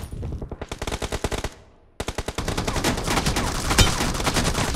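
Rapid, steady automatic gunfire in a team shooter video game, loud and continuous, with a brief lull after the opening burst before it resumes in a dense, unbroken stream of shots.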